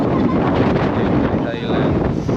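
Strong, cold wind buffets the microphone at People's Park in the Sky in Tagaytay, producing loud, continuous rumbling gusts that fill the whole moment.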